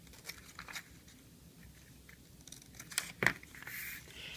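Scissors snip through a paper sewing pattern at the knee line, giving quiet, close crisp cuts and light paper rustles, with one sharper snip near the end.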